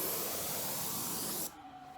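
Steady broadband hiss of a sprayer laying finish onto a wooden fence, held at an angle near the ground, loud and continuous before cutting off abruptly near the end, leaving a faint low hum.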